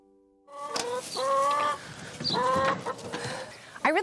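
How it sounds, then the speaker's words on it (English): Farm chickens cluck and squawk close by, a series of loud, drawn-out calls with short pauses between them, ending in a sharper cackle. "I love having chickens."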